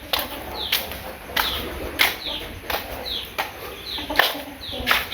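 Chickens wait to be fed, repeating short, fairly quiet calls at a steady pace of about one every half second, with light background noise between them.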